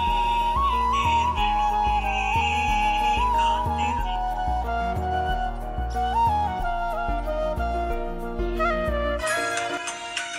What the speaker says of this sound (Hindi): आप देख सकते हैं पूरा वही गाना बज रहा है।